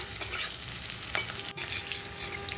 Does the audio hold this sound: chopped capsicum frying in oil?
yes